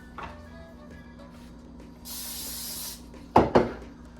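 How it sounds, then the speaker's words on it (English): A short hiss of aerosol cooking spray on a griddle lasting about a second, followed by two sharp clattering knocks near the microphone. "we're going to take a little bit of the cooking spray"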